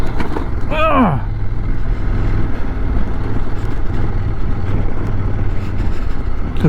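Motorbike engine droning while the bike rides over bumps on a twisty road in Catalonia, with a brief rising whine near the start and steady rumbling after it, loud and with no talking.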